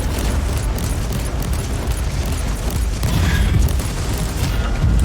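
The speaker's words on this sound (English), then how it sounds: "And they explode." Dense, continuous rumbling booms and blasts from explosions in the Warhammer 40,000: Inquisitor - Martyr battle game fill the whole stretch at a steady loud level, with no talking.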